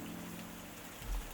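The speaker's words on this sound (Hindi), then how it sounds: "मोटी मोटी बूंदें पुराने खिड़कियों की नई कांच पर एक अजीब सी धुन रच रहे थे" Heavy rain beating on old windows with new glass during a stormy night, a dense, steady wash of drops with a brief swell near the end, close and continuous, no voices.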